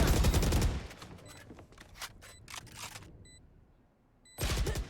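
Rapid gunfire bursts fill a round of the video game Valorant, with sharp shots near the start, scattered cracks through the middle, a quiet gap, then another loud volley at the end.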